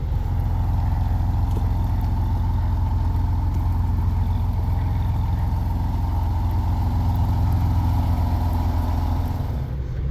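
A vintage Toyota Land Cruiser FJ62 with an automatic transmission idles inside a shop, its engine a steady, close, low rumble that runs throughout before easing off at the very end.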